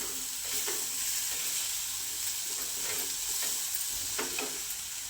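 Bitter gourd chutney with jaggery and a squeeze of lemon sautéed on low gas, giving a steady soft sizzle with occasional faint stirring scrapes, close and continuous throughout without any voices.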